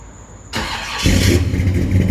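A 1966 Chevy panel truck's engine cranks and catches about halfway through, then settles into a loud, rough idle with deep low rumble, close by and with no voices.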